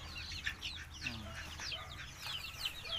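Geese call from a distance, a scatter of faint honks and clucking cries over a quiet farmyard background.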